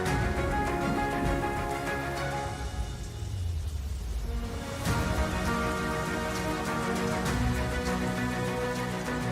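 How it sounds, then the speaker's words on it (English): Steady, heavy monsoon rainfall pours down continuously in a tropical forest, a dense wash of drops on surfaces that briefly softens midway before swelling again. "Monsoon rain feeds the tropical flora and fauna."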